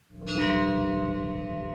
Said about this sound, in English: Wedding bells ring.